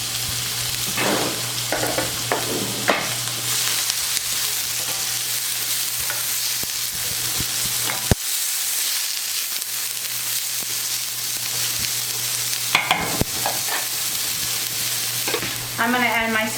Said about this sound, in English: to the olive oil, I am going to add my veggies, which is going to be 1 yellow pepper, 1 red pepper, and then our garlic